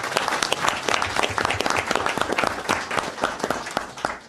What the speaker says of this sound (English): You can give you a round of applause.